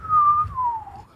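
A voice imitates the soft, wavering little nose whistle of a sleeping baby dragon: one thin, breathy tone that dips gently in pitch over about a second, heard alone and up close.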